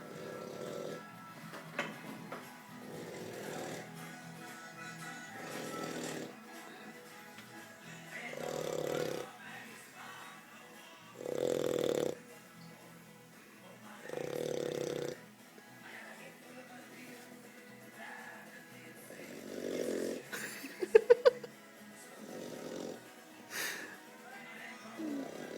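A four-month-old Old English Bulldog puppy snores loudly in a quiet room, with repeated rhythmic rasping breaths and occasional snorts. Soft human voices are heard faintly in the background.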